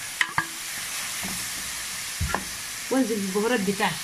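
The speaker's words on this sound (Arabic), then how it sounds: "الخضار يا حبيب قلبي تشويحه مع بعض اهو، وهنزل بطماطمايه مبشوره اهي" Vegetables sauté with grated tomato in a pan on a gas stove, sizzling steadily with a few stirring scrapes and clinks while someone speaks briefly.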